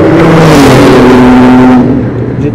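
At Spa Francorchamps during the Brûleurs de gommes 2022 event, a Porsche GT3 RS revs hard close by, a loud, harmonic engine howl that holds for nearly two seconds before dropping away.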